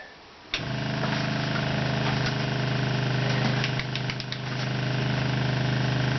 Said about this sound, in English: I want to turn the pump back on for a minute.